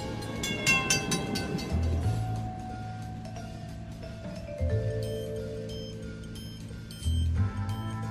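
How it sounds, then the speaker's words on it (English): A departing train in a sound effect brings rumbling wagons, a clicking rhythm and several long horn blasts with shifting pitch, loud and sustained throughout, with no talking. "So hop aboard and buckle up, because the train is departing the station."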